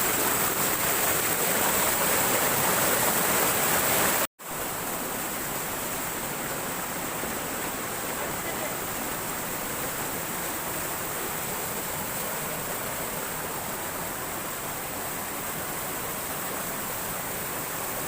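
Swopnakundu waterfall at Karuvarakundu, water dropping in sunlight, gives a steady, loud broadband rush with no breaks apart from one instant dropout near the start; no voices.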